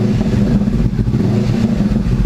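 A motorcycle with an open free-flow exhaust revs loudly and close by, a deep, throaty engine roar that rises and falls continuously with no voices.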